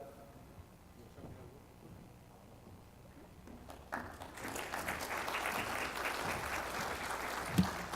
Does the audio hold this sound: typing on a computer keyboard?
no